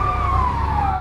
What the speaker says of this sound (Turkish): Geldi itfaiye.